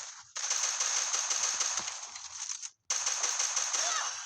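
Rapid automatic gunfire from the mobile battle game Free Fire rattles in dense, continuous bursts, stopping briefly near the end before resuming just as loud.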